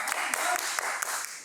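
Audience clapping on the set of a Bigg Boss reality show episode, a steady wash of many hands throughout with a few sharper individual claps standing out.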